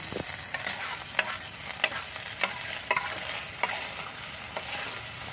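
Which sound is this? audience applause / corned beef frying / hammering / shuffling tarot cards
corned beef frying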